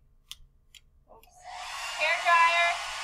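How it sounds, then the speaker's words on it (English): Electric hair dryer blowing hot air switches on after a few faint clicks and runs as a steady, rising whoosh that stays loud to the end. "I'm still going to be using my hair dryer."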